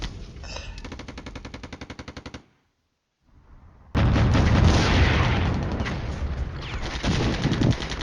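A .50 caliber machine gun on an AMX vehicle in the Cold War wargame Flashpoint Campaigns fires a rapid, evenly paced burst for about two seconds. A brief silence follows, then a loud, sustained roaring blast.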